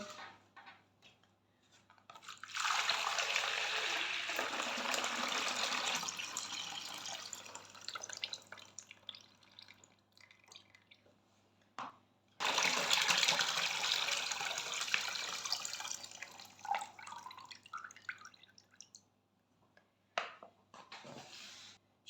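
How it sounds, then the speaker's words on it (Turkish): Brine poured off cracked green olives runs out in two long, splashing streams of water into a sink or bowl, separated by a short pause and followed by a few drips, close and loud. "Şimdi ben bu ilk suyunu süzeceğim arkadaşlar."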